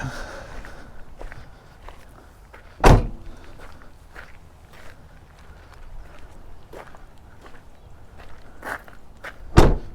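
Two heavy doors on a VW Crafter extra-long-wheelbase camper van shut with loud thuds several seconds apart, with footsteps and light shuffling in between.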